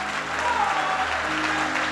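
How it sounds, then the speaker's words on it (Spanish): Congregation applauding during a church worship service, a dense steady wash of clapping that fills the space, with a faint sustained musical tone and some voices underneath. "Fuerte ese aplauso a Cristo."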